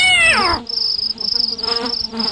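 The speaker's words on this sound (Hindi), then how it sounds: "अरे बिल्ली ने मुझे देख लिया" A cat in the horror flash game The Visitor gives a falling meow, followed by a thin high electronic whine with pulsing low tones underneath, close and without talk.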